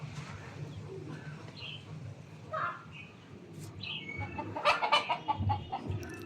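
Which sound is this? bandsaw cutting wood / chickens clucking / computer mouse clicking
chickens clucking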